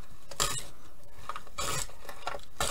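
Hand re-cutting of a piece of material for a handmade Buddha gift, giving repeated rasping, scraping strokes in irregular bursts, close and fairly loud with no voices.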